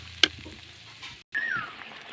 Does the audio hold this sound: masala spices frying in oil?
yes